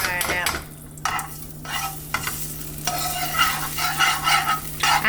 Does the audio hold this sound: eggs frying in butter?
yes